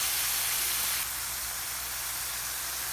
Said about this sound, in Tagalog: Habang ginigisa natin yung giniling natin, ilagyan na natin siya ng pamintang durog